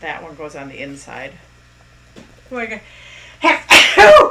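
A single sharp human sneeze bursts out near the end, close and loud, following a woman's calm speech while she assembles a balloon greeting card.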